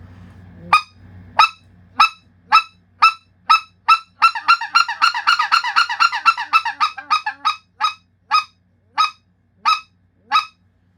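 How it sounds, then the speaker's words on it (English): A speck goose call, the white-fronted goose type, blown in single clucks that speed into a rapid run of double clucks and then slow back to spaced singles, loud and close with no other sound. "you'd start with the single clucks, work into the double clucks, and then come back out of them"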